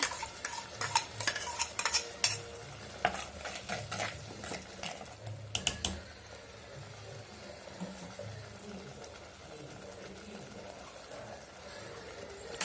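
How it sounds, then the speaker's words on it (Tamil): A utensil scrapes and stirs food, cowpea masala, sautéing in oil in a pan with a faint sizzle, brisk clatter at first, then a quieter steady frying hiss. "நல்லா இது பச்சை வாசனை போகிற அளவுக்கு நல்லா எண்ணெயில் இது நல்லா வதக்கி விடலாம்"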